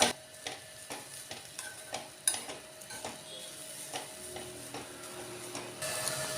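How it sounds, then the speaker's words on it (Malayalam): Carrot thoran with freshly grated coconut being stirred in a pan, faint and close: a low sizzle underneath, with repeated soft scrapes and light taps of a spoon every half second or so. "ഇനി ഇതിലേക്ക് നമുക്ക് തേങ്ങ ചിരകിയത് ചേർത്ത് കൊടുക്കാം. നന്നായിട്ടൊന്ന് മിക്സ് ചെയ്ത് കൊടുക്കുക."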